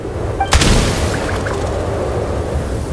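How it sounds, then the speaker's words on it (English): A single loud gunshot in the Genshin Impact video game, one sharp boom that cracks out near the start and then leaves a rumbling tail over steady game background noise. "There's the gunshot."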